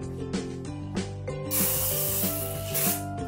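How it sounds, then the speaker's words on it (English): Non-stick cooking spray is sprayed into a pan in two hissing bursts of about a second each, close and clear over steady background music. "Now you're going to bring out your pan and add the non-sticking spray."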